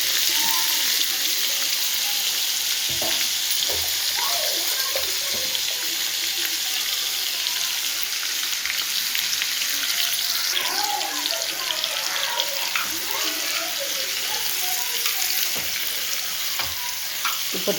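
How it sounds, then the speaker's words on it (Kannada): Prawns frying in ghee for a Mangalore-Kundapura style ghee roast, a loud, constant close-up sizzle with occasional stirring scrapes and clinks throughout. "ಸೊ ಅದನ್ನು ತುಪ್ಪದಲ್ಲಿ ಹುರಿಯೋಣ."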